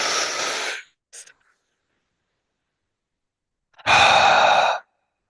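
Deep breathing during a breathwork exercise, a long breath of air, a brief sniff, several seconds of silence, then another strong extended exhale, loud and close.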